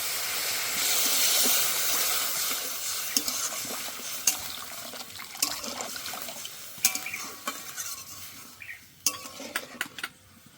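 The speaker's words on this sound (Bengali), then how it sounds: "এবার কিন্তু আমি জল দিয়ে দেব।" Water hits a hot frying pan of chicken momo filling with a loud, bright hiss that slowly fades, followed by scattered close clinks and scrapes of a spoon against the pan.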